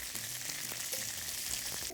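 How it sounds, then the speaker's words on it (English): Bacon sizzles and fries in a pan for a barbecue sauce base, a dense, steady crackling hiss with occasional pops, heard up close and alone with no talk. "this sauce starts with frying up some bacon"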